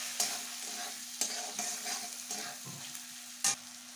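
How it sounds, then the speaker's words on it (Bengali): Tomatoes and green chillies being fried with coconut in a pan: a quiet, steady sizzle with a low hum and occasional scraping stirs and sharp knocks of a utensil against the pan. "এখন টমেটো আর কাঁচা লঙ্কা দিয়ে দিচ্ছি"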